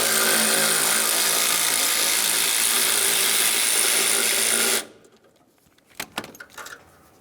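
Power tool spinning out an 8mm mounting bolt on a Mercury Grand Marquis horn, a loud continuous whirring drone for several seconds that stops abruptly, followed by a few brief metallic clinks.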